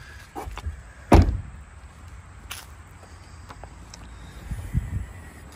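A sharp mechanical pop and thunk of a 2020 Corvette Stingray's trunk latch releasing, followed later by a second softer thud of the front hood, with quiet rustling between.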